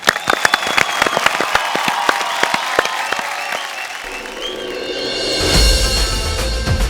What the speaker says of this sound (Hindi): उनकी वाइफ्स हैं और जो हमारी छोरियां, उन सब के लिए जोरदार तालियां